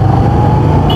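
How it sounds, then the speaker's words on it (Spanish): Heavy city road traffic heard from a motorcycle during a test ride, a loud constant rumble of vehicles and engine drone with a faint high whine near the end. "Ay, mucho tráfico."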